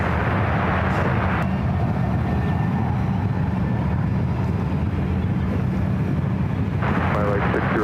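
An airliner takes off at San Francisco International Airport, a loud, continuous jet roar with wind rumble, heard from the airfield under a voice on an air traffic control radio.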